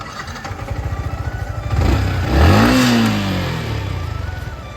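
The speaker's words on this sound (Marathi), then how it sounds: "तर चला मग जरा गाडी चालू करूया आपली." A vehicle left idle for two days fires up: a throbbing, pulsing idle swells into a loud, close rev that climbs and then eases back to a steady running drone.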